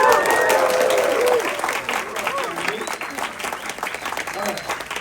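Audience at a summit presentation claps hard together, with some voices calling out over the applause, loud at the start and then easing to a steadier, slightly softer clapping.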